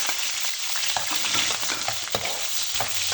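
Onion and spices fry in hot oil with a loud, dense, continuous sizzle up close, with a few soft stirring scrapes underneath.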